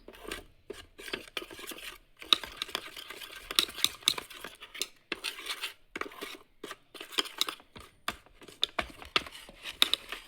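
A utensil stirring flaxseed gel into a face pack mixture in a small bowl, with close, irregular scraping and clinking strokes that carry on throughout.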